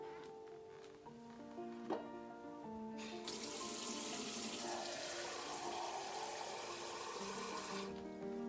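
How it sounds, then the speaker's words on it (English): Water runs steadily from a kitchen tap, a continuous hiss and splash as it fills a cup to be added to a pan of onions, heard alone with faint clinks and a musical tone beneath. "And add some water."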